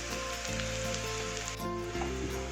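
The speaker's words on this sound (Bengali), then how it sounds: "পেঁয়াজটাকে একটু ব্রাউন করে নেব।" Onions fry in a pan until brown, giving a steady, close sizzle with a bubbling hiss that holds evenly throughout, and no voices.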